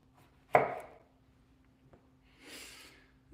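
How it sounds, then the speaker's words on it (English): A knife chops half a Roma tomato on a cutting board: one sharp, close chop, a fainter second tap, then a soft breathy rustle near the end. "Let's go ahead and do about half of a little Roma tomato here"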